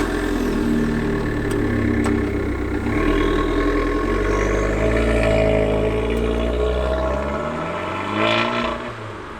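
Abarth 595 Turismo engine idling and revving up close, a throaty burbling exhaust rising and falling with a few sharp pops, loud and alone with no talk.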